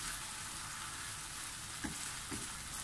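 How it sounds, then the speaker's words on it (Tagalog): Beef and spring onions sautéing in a pan for a Chinese-style stir fry, a soft steady sizzle with a couple of brief stirring scrapes near the end and no talking. "ituloy lamang po natin ang ating paggisa for another 5 minutes"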